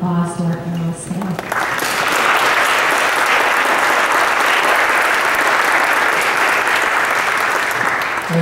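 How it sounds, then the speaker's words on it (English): A science-writing panel event where the audience breaks into sustained, loud applause that swells after a brief spoken introduction and carries steadily to the end. "Let's give a warm round of applause to our panelists today."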